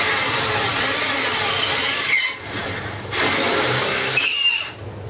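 Hand power drill boring through metal, its motor whining steadily with squealing bursts as the bit binds near breakthrough, briefly dropping out twice before spinning up again; close and loud, no talk.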